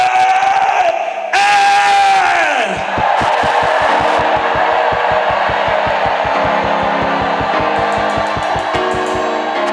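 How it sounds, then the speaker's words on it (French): A church congregation at a French-speaking night service loudly shouts "fire" back to a preacher, a massed roar of voices followed by a swell of crowd noise and rapid rhythmic clapping or drumming. "Quand je dis un, on crie feu."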